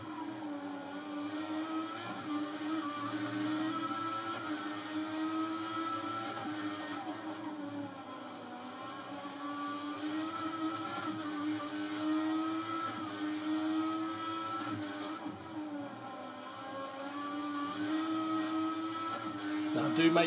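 Racing engine of a Formula 1 car in the F1 2014 game, lapping the Sochi circuit, drones steadily at moderate level with a high whine that rises and dips through gear changes and corners.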